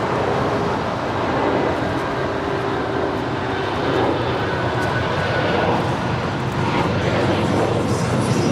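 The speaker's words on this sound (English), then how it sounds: "That was Avianca Flight 641 coming in from Guatemala City, the A320." An Avianca Airbus A320 arriving from Guatemala City at LAX gives a loud, steady jet roar that fills the whole stretch without a break.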